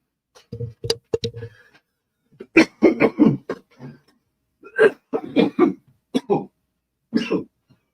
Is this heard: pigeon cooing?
no